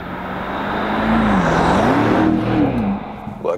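BMW X5 M50i with its 4.4 liter V8 in sports mode accelerates, a loud steady engine drone rising and falling in pitch as it revs, with no talk over it.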